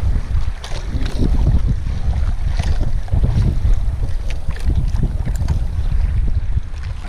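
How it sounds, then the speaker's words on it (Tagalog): Strong wind buffets the microphone with deep, rumbling gusts while water sloshes around a moving fishing boat at Calatagan, loud and continuous. "Oh, lakas sa hangin."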